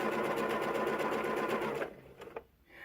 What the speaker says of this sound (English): as you can see, this machine is making a stitch.